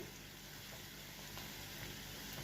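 Spice masala frying in oil for a raw banana kofta curry, a continuous quiet sizzle and crackle with no voices, steady and close.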